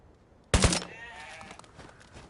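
Suppressed rifle in the DayZ video game fired on full auto outdoors: a sudden, tight burst of muffled rapid shots at the start, then a ringing, fading tail against quiet surroundings.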